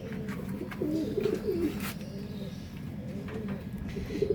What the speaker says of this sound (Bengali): ছোট্ট বাচ্চা পায়রাগুলোকে আর এই যে পায়রাগুলোকে খেতে দিয়েছে বড় বড় পায়রাগুলো এরা নিজেরা খাচ্ছে